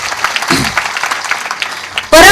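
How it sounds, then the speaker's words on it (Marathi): Applause from a kirtan audience, a dense spread of hand claps across the whole clip that swells suddenly loud near the end, with some voices mixed in. "लहान बालकांसाठी जोरदार टाळी वाजवा."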